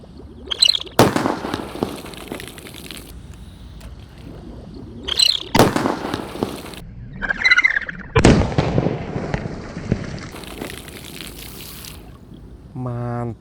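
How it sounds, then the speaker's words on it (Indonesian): A jumbo Whistling Thunder firecracker set off underwater gives several sharp muffled bangs and bursts with splashes and fizzing, separated by gaps of trickling water, while people talk in between. "Dan ini penutupannya jumbo Whistling Thunder guys. Kita nyalakan di dalam air ya."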